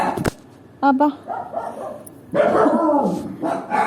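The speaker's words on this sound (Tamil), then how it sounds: "அடுத்தது நாய்ங்களாம் குலைக்குது." Dogs bark in a few sharp, close bursts, including a quick double yelp, with a person talking over and between the barks.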